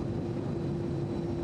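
A plane in Grand Theft Auto: San Andreas, a steady, even engine drone with a low hum, continuous and unchanging throughout.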